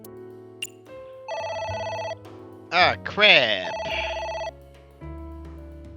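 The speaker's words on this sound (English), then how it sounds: "It's ringing again." Electronic telephone ringing in the video game AI: The Somnium Files, a few tonal bursts with a short melodic jingle, close and clear, while a voice speaks briefly.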